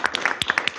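A small group at a council meeting claps after a vote, sparse separate hand claps in an uneven rhythm, close and brief, with no talking.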